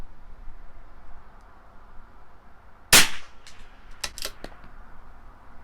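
A single sharp crack from a CZ 457 .22 rifle firing Norma Match-22 ammunition, followed by a few lighter clicks and clacks of the bolt over quiet outdoor background.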